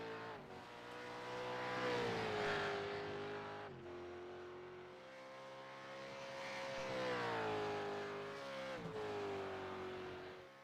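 A V8 Supercars race car passing at speed on the track at VIR, its engine note holding a steady, loud drone with pitch sweeps as it shifts gears and swells in and out across the run, with no talk.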